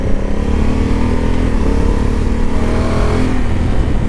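A 2022 Honda Africa Twin CRF 1100L Adventure Sports ES DCT motorcycle being ridden at an easy pace, its engine giving a loud, steady rumble with wind noise, close and without talk.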